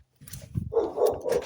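A dog barks three times in quick succession, close and fairly loud, after a brief low rumble.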